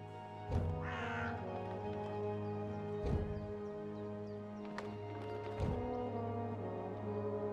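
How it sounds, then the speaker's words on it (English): Birds in the video game Dreamfall Chapters caw and flap over a steady low game ambience, with a few sharp wingbeat bursts and one raspy call standing out near the start. "there are still talking birds flapping about"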